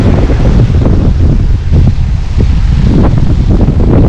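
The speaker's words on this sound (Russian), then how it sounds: "Ветер достаточно сильный." Strong wind buffets the microphone on a Black Sea beach at Lazarevskoye, a loud continuous roar with gusts and faint surf underneath, no talk.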